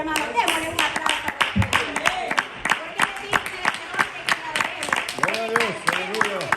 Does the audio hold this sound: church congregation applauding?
yes